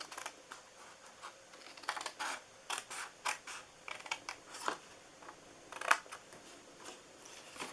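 Large scissors snip through paper in a series of short, crisp cuts, irregularly spaced and fairly close, with soft rustling between them.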